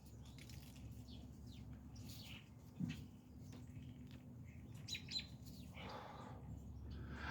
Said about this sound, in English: Those birds, or whatever that is that makes that noise that sounds like an electric current arcing, are trying to help me.